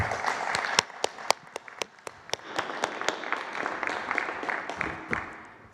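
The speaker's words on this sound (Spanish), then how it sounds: "Un aplauso." A conference audience gives a short round of applause at a Mexican presidential press briefing, with scattered sharp individual claps standing out over a thin, lightly filled background.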